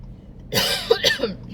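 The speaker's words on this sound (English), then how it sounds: "see, I have the cough too." A single short cough bursts out close to the mic, followed by a brief throat-clearing rasp.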